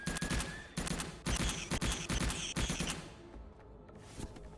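Bursts of SMG gunfire in the game Subterrain, several loud, rapid strings of shots separated by short gaps, close and punchy, trailing off into quieter ambience at the end.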